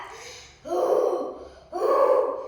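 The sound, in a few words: storyteller imitating wolf's deep inhale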